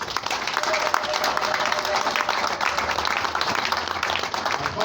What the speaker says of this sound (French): Nous vous demandons d'applaudir le couple.